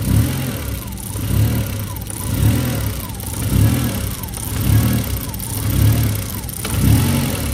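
A Volkswagen GTI 20th anniversary edition with the 1.8T engine idles roughly after new spark plugs, a steady close engine drone with a slow rhythmic surge every second or so, faint voice in the background.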